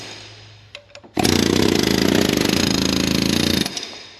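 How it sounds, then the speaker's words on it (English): An air hammer works on a part of a John Deere 450G dozer, a loud, steady, rapid hammering burst lasting about two and a half seconds after a few short taps. "Sometimes you can cheat them with the air hammer."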